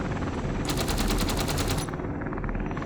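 Flak cannons in the Space Engineers video game fire a rapid, continuous automatic burst lasting just over a second, loud and close over a steady background hum.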